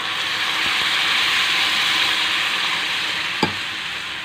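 Tamarind pulp is poured into a pan of brinjal curry, which sizzles loudly and steadily throughout, with a brief clink of a utensil near the end.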